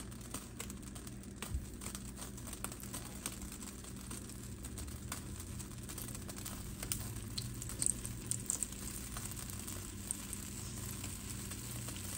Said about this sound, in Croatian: Ulje se zagrijalo, sad stavljamo ćufte.